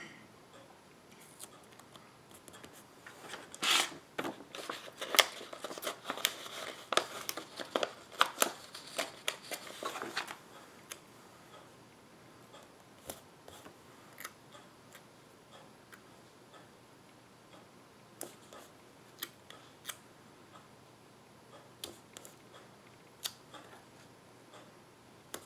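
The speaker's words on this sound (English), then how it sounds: "Cut out those Monday sucks stickers" Scissors snipping out planner stickers, with a dense run of quick crisp cuts early on and then sparse, scattered single snips, quiet and close with no talking.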